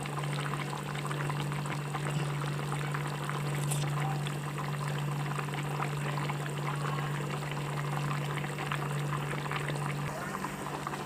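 Potato curry simmers in oil as its water cooks off, giving a steady bubbling, sizzling hiss with a constant low hum running underneath throughout.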